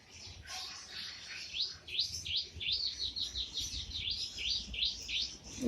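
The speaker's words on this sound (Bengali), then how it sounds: "শুনতে পাচ্ছেন পাখির কিচিরমিচির কী হারে বাগানে পাখির কিচিরমিচির হয়" Birds in a garden chirp repeatedly in quick, bright tweets over a quiet outdoor background, several calls overlapping in a busy, lively chorus.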